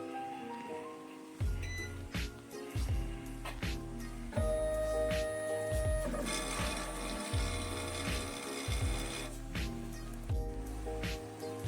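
The mechanism of a printer moves the print tray, producing repeated whirring and ratcheting motor strokes with gear clicks and a brief tonal whine, close and fairly quiet, with no talking.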